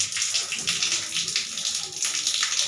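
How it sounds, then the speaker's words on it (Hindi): Water rushes steadily from the pipe of a newly installed Haier geyser, a loud, continuous splashing flow with no talking. "पानी आ रहा है, ये वाला गीजर का पानी आ रहा है"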